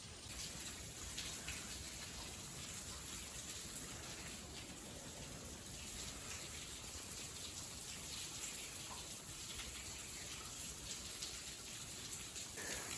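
Water falls and drips inside a cave at the Floyd Collins Sand Cave site, a continuous dense patter of falling drops with a steady hiss, even and unbroken throughout.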